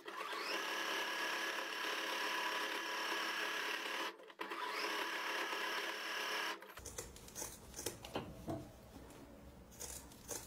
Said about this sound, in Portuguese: eu fiz a costura reta e passei zigue-zague só aqui nas orelhinhas